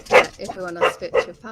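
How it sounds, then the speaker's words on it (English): Household dogs barking and yipping in short bursts close by, heard beneath someone speaking steadily. "excuse my dogs"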